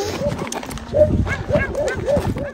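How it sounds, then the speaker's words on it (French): Hostile dogs bark and yelp at night near a camp in the Moroccan desert, a rapid volley of sharp, overlapping barks, loud and close, with whining notes between them. "c'est d'être accueilli par des chiens vraiment hostiles en pleine nuit"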